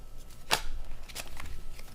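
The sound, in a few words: shuffling tarot cards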